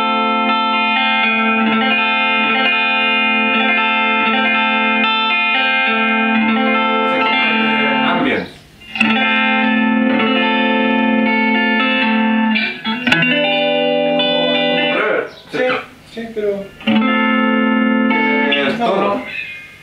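An electric guitar played through a small ZT Lunchbox amplifier set with ambience at zero and tone, volume and gain at mid, ringing chords and notes sustained steadily with brief pauses, loud and close.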